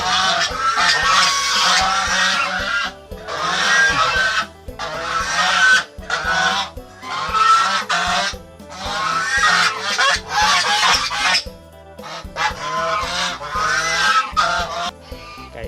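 Geese honk loudly and repeatedly in harsh bursts, several birds calling over one another with brief pauses between volleys, close by.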